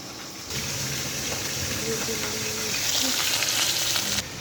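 Fish fries in a pan with oil: a loud, close, continuous sizzle that rises at about half a second, holds steady with faint stirring clatter, and drops away near the end.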